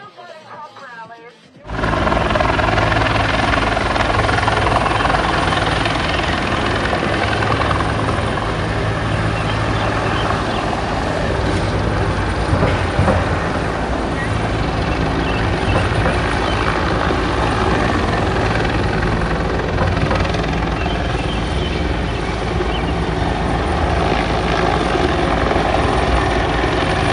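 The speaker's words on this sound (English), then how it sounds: "You see the helicopter right above me?" A helicopter hovers directly overhead near the Supreme Court, its loud continuous rotor roar starting abruptly and staying steady and close with a faint voice underneath.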